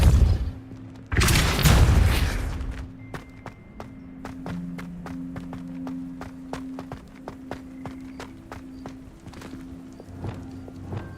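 A Depulso spell cast in Hogwarts Legacy lands as a loud burst near the start, then a run of sharp rhythmic thuds and clicks over a low steady game drone.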